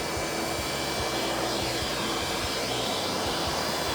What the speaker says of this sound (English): we're just gonna vacuum, pick up whatever we can that's loose